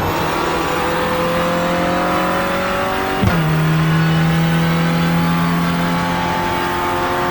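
Renault Clio Cup race car in iRacing, engine droning steadily at high revs, then dropping sharply as it shifts and climbing again, loud and continuous with no talk.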